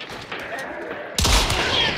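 Gunfire in the video game Hunt: Showdown, a sudden loud burst of shots cutting in partway through, with background game noise before it.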